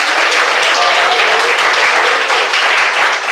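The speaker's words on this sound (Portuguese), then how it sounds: "Rebate palmas." Loud, sustained clapping from a church congregation during a sermon, dense and even throughout with no speech over it.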